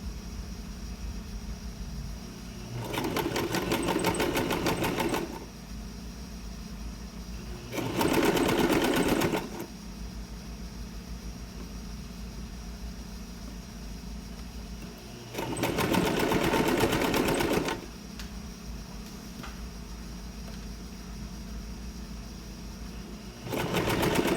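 A sewing machine stitches a 1.5 cm seam on a skirt in four separate runs of rapid, close whirring, each lasting a couple of seconds, with quiet pauses in between.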